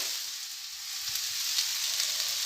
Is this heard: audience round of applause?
no